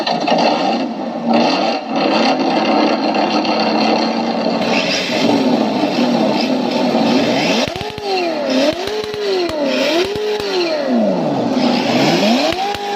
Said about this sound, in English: Throttle to start the engine.